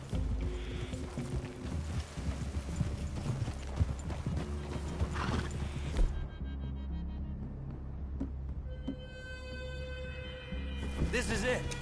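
Horses clip-clop along in a Red Dead Redemption game scene, hooves thudding steadily under game music and speaking characters, with a brief whinny along the way.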